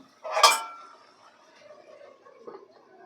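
A utensil scrapes and clinks against a cooking pan once, loud and close, as prawns are stirred into Malabar spinach vegetables, followed by quieter soft scraping and a smaller knock.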